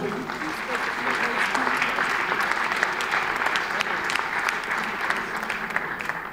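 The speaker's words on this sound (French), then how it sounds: "Bravo à vous, on peut l'applaudir." Audience claps for a special accessibility award winner at a 2015 trophy ceremony, sustained even applause from a sizeable room, moderately loud with a faint voice or two mixed in.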